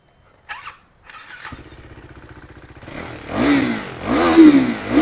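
A 2017 KTM Duke 390 motorcycle engine sputters briefly, settles into a pulsing idle, then revs louder and rougher toward the end, close up with no talking.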